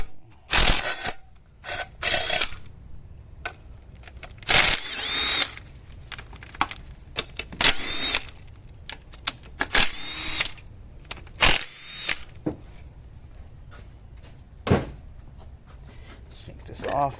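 Power tool, likely an impact driver or drill, removing valve cover bolts from a J35 engine cylinder head on a 3G Acura TL Type S; repeated short loud bursts of whirring with pauses between, close up, with a person talking between bursts.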